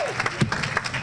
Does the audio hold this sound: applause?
yes